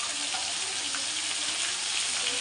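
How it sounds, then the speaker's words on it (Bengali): Potatoes for aloo dum fry in oil, producing a continuous, even crackling hiss at moderate volume with no break. "দেখো বন্ধুরা, আলুটা লাল লাল করে ভাজা হোক"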